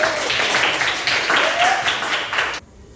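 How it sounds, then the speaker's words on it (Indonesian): Classmates clap at the end of a group discussion presentation in a school lesson, a short, fairly close burst of applause with some voices mixed in, stopping abruptly. "Tepuk tangan"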